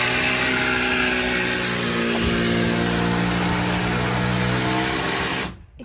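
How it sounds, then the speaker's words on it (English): Pressure washer cleaning wooden boards, a loud steady motor drone with a hissing spray layered over it, continuous and close, cutting off abruptly near the end. "When you pressure wash it, it gets all the fuzzies"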